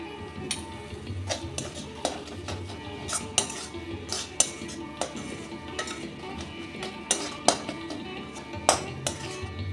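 Ash gourd peel paste being stir-fried with fried egg and ground dried chilli: a spoon scrapes and clinks against the pan in irregular taps over a low, steady frying hiss, with no voices.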